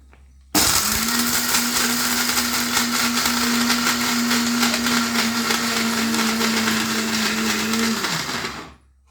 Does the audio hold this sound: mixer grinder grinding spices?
yes